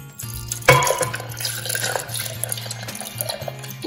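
Milk poured into a blender or cup for a homemade pumpkin spice frappuccino, a close, steady gurgling liquid stream with a small splash at the start, running for a few seconds alone.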